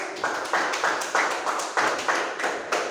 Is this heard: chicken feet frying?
no